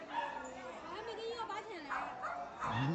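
Small dogs in a pet shop yip and whimper in quick, high-pitched bursts close by, mixed with people talking.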